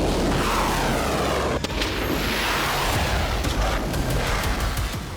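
Loud, continuous rumble from a missile blast in Tel Aviv captured on an indoor building CCTV near the impact site, a dense roar with a sharp crack partway through as window glass shatters.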